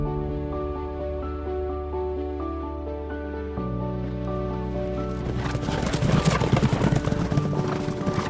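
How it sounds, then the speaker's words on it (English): Icelandic horses in motion, with hoof clip-clop sounds mixed under prominent background music that grows denser and noisier in the second half; no speech. "Have you ever seen Icelandic horses in action?"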